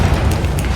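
Bombarda blast spell from Hogwarts Legacy, a short, loud booming burst with deep rumble and a crackling pop in the game.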